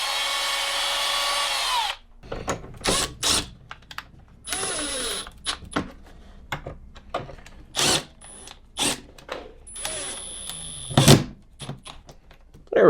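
A handheld power drill widens screw holes in short bursts that start and stop, whirring and grinding near and loud, with clicks and handling noises between runs and no talking.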